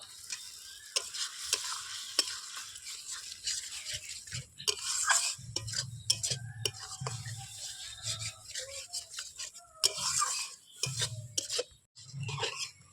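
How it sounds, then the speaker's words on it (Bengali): Spice paste with salt and turmeric is fried in a pan for egg curry. Soft sizzling sits under repeated scraping and stirring strokes from a utensil, with intermittent clinks of metal against the pan. "পরিমাণ মতো লবণ পরিমাণ মতো হলুদ দিয়ে আমি মশলাটা ভেজে কষিয়ে নেব"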